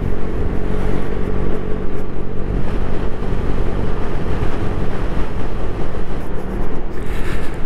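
A Lambretta V200 scooter engine drones steadily throughout a test ride, a continuous loud hum mixed with road and wind noise and no pauses.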